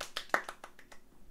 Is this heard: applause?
yes